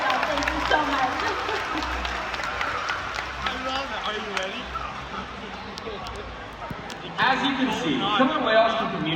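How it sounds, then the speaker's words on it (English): A crowd at SeaWorld claps steadily for several seconds, a broad rattle of applause that swells again near the end. "let's have a round of applause for our wonderful volunteers today"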